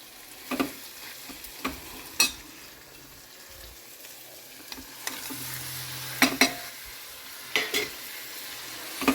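Drumsticks, tomato and capsicum curry with ginger-garlic paste frying in a pan, a continuous sizzle broken by repeated sharp clinks and scrapes of a stirring spoon against the pan, with no talking.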